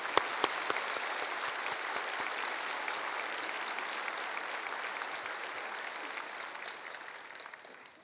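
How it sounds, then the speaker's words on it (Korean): Warm applause from a church congregation welcoming a pastor to the stage at a missionary sending service, a dense steady wash of clapping that holds for several seconds and slowly thins toward the end. "지구촌에 따뜻한 박수로 모시겠습니다."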